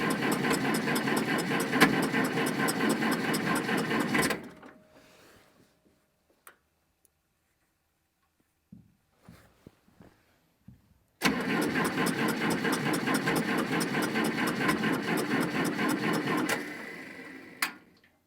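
A car engine with a weak battery and its block heater plugged in cranks on a cold start in two long, rhythmic bursts of steady churning, separated by a quiet pause with a few small clicks, and never catches.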